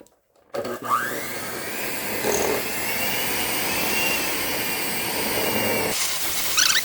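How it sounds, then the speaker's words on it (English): A cheap yard-sale blender whirs steadily at full speed while mixing a no-bake cheesecake tart filling, a sustained motor whine that starts abruptly, holds level for several seconds and briefly surges near the end. "It's been the best blender I've ever owned."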